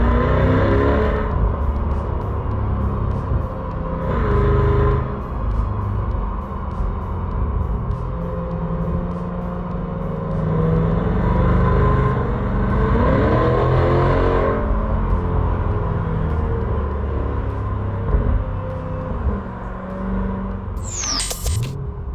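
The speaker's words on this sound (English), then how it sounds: "Right now we are in Lance's C8 Corvette, the 8th generation Corvette." An eighth-generation Chevrolet Corvette C8 with its engine mounted mid-ship, heard from inside the cabin while driving: a loud, deep engine drone with repeated surges as it revs up and settles, steady road rumble throughout and no talking.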